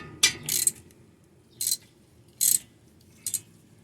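A hand ratchet turns a 14 mm brake caliper bolt in short bursts, four close, clicking pawl runs separated by brief pauses.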